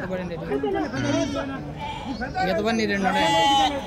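Goats bleat in wavering cries at a goat market, overlapping with people talking nearby.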